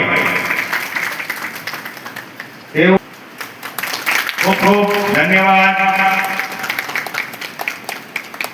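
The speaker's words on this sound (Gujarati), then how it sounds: "તાળીઓથી બતાવો ભાઈ" At an Aam Aadmi Party meeting, the audience claps in a steady spatter that runs under someone speaking over a microphone, with a sharp loud knock near the start.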